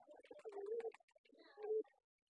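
A Lakkha pigeon coos in two low, throaty bursts close to the microphone, with a brief pause between them, in a quiet setting.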